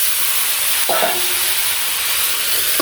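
Mixed vegetables with turmeric, chili and five-spice powders fry in a pan, a loud continuous sizzle and hiss, with a brief scrape of stirring near the middle.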